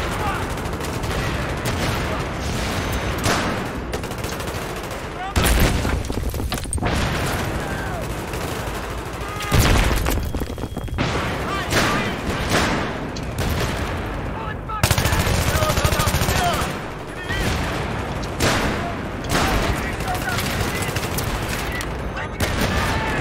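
Video game combat with grenade blasts and gunfire, dense continuous automatic shooting punctuated by several loud explosive booms at intervals, close and busy throughout with no pauses.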